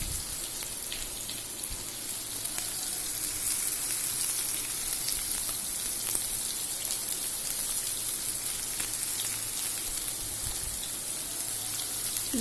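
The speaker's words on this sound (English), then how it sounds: "So add at this point chopped onions" Chopped onions sizzle in a pan on a gas stove, making an even, soft hiss that holds steady for several seconds with only faint crackles. No voices are heard.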